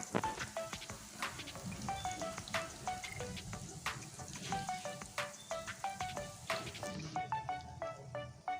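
American fish roe pakoras fry in hot oil, giving a steady, close crackling sizzle dotted with sharp pops and spits. No one talks.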